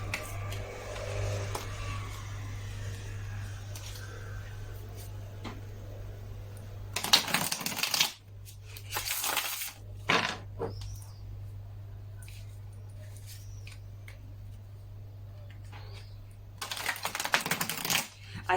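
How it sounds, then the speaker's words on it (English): Tarot cards being shuffled in several short bursts, with quiet rustling between, close by and moderately loud against a low background hum. "I need to shuffle the right way."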